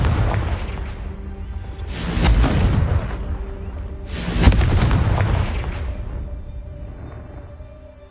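Two Confringo blasting-curse explosions in Hogwarts Legacy, loud booming bursts a couple of seconds apart, each rolling off into a long rumbling decay.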